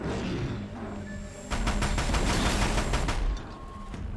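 Rapid gunfire bursts in the Horizon Zero Dawn video game, a dense rattle of shots lasting a couple of seconds over a rumbling battle backdrop.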